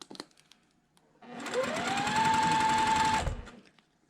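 A sewing machine stitches small fabric scraps together in a chain, sewing a quarter-inch seam to build longer strips for a pieced quilt border; a steady close whir runs for about two seconds, rising in pitch as it speeds up, then stops.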